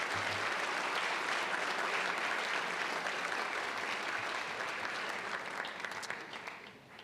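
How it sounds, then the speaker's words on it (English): Sustained audience applause at a high school awards day ceremony, a dense, steady wash of clapping from a large crowd that holds for several seconds and tapers slightly at the end. "Let's give them a round of applause."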